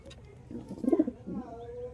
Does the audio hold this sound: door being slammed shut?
no